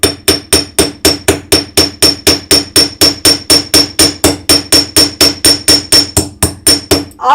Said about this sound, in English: Okay, so we'll hammer a little bit on one side.